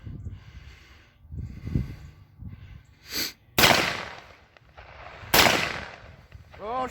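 Tannerite exploding when shot outdoors: two loud, sharp blasts a couple of seconds apart, each with a short noisy decay, amid rustling and low background sounds.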